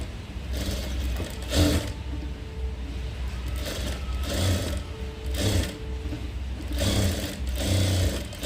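A sewing machine stitches a blouse lining in repeated bursts of rapid needle chatter. The runs are close and loud, with short pauses between them.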